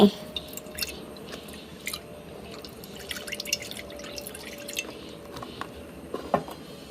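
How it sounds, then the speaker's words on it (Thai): Coconut milk poured into a pot to start a pineapple curry with mussels, heard as quiet liquid drips and soft splashes that come and go against a low background. "ขั้นแรกเลยเราก็เทกะทิลงไป"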